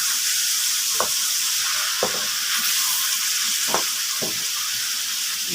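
Chopped liver fries in a hot pan in Egyptian street-cart style, with a constant loud sizzle and hiss. A spoon scrapes and clacks against the pan about four times as the pieces are stirred and flipped.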